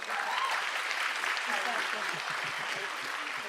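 Audience clapping at a citizens' council gathering, a steady wash of many hands at even loudness through the whole stretch, with faint voices murmuring underneath.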